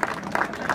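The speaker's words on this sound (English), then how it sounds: "let's have a round of applause for Sushant being here also." Audience applause at a charity cyclothon event in Kolkata, a short burst of crowd clapping with a noisy, broadband texture.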